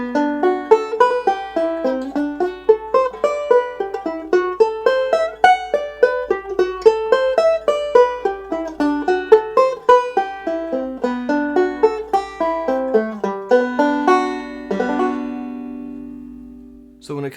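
A bright plucked banjo picks diatonic seventh chords up and down the neck, a steady run of arpeggios climbing and descending, each note ringing briefly, ending on a sustained chord that fades.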